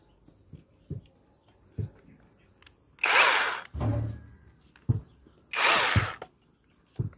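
A Makita cordless hammer drill running in two bursts of roughly half a second each, loud whining revs separated by handling knocks, a short low rumble and quiet clicks.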